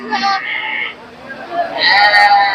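Goats and sheep bleating at a busy livestock market in Tangail, Bangladesh: two loud, close wavering bleats, one at the start and a longer one near the end, with market chatter between them.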